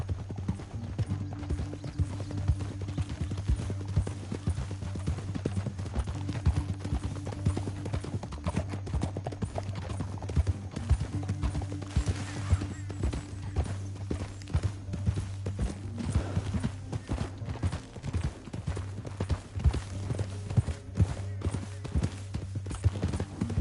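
Horse hooves clip-clop steadily over the whole stretch in a PS4 video game, a continuous galloping rhythm with a low hum underneath and a faint murmur of voices.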